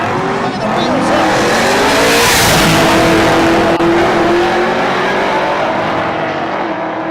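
Chevrolet Malibu Wagon launching hard down a dragstrip, a loud, sustained roar of engine and tire noise swelling and holding close by, with crowd and commentary noise mixed in.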